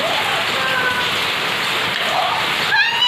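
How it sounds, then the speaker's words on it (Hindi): Rain falls steadily on nearby surfaces, a dense and even patter heard close, with a few faint higher tones near the end and no one talking. "अभी पानी होने लगा"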